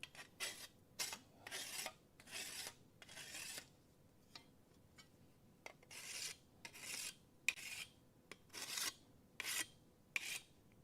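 Hand file rasping burrs off the cut edge of sheet metal on a rusty Dodge crew cab truck, a series of short scraping strokes in uneven bursts with pauses, close and clear.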